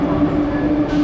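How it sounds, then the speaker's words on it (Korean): Steady low rumble and hum inside a moving double-decker train in Europe, a continuous drone with a faint tonal whine throughout, no voices. "기차에 탔습니다."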